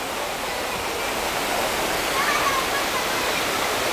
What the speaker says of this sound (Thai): ก็เป็นทานน้ำเล็กๆนะครับไหลอยู่